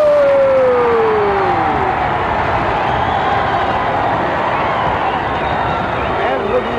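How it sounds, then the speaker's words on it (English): A roaring arena crowd at a televised Australian wrestling bout on Channel 9 cheers and yells continuously, loud and close, while a commentator talks over the noise. "And listen to the crowd go mad."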